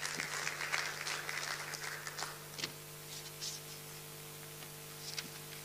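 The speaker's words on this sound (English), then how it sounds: "Please, again, one applause." Audience applause at a digital commerce summit in a conference hall, a dense patter of clapping that is strongest at first and then thins to scattered claps, heard at a distance over a steady background hum.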